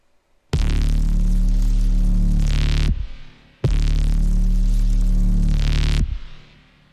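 A dense, buzzing processed synth sound-design tone loops twice, each pass a loud sustained block lasting over two seconds, separated by a brief quiet gap with a soft tail.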